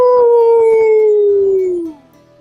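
Many voices join in one long, sliding 'ooh' that slowly drops in pitch, imitating a howling wind, then fades out.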